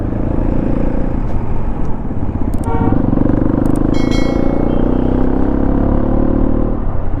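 Loud, steady engine and road roar from an adventure motorcycle ridden with a pillion passenger, with brief horn toots from traffic partway through.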